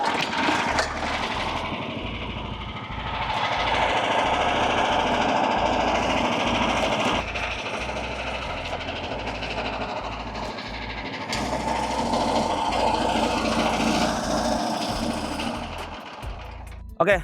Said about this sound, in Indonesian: Yang pertama saya akan operasikan dulu yang ini, FWM 800. Kita langsung saja hidupkan.